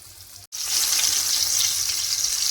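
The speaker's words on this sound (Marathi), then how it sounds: "आता इथे मी तेल गरम करून ठेवलं होतं. आता हा मासा मी मीडियम आचेवरती याला" Pomfret fish frying in hot oil over medium heat, a steady loud sizzle that starts abruptly after a short pause and continues evenly, with no talking.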